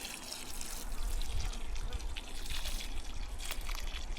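Water poured onto a newly planted tree in a cleared orchard plot outdoors, a steady broadband splashing and trickling that runs continuously without a break, close and moderately loud.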